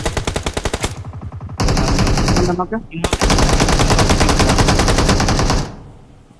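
Rapid automatic gunfire in the mobile shooter BGMI, loud bursts of close machine-gun shots with a brief gap and a longer sustained burst before trailing off, a voice faintly under it.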